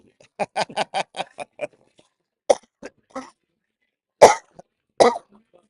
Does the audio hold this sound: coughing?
yes